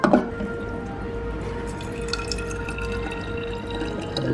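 Water runs from an airport drinking-water dispenser offering hot, cold and room-temperature water, a quiet steady trickle and drip after a brief louder start.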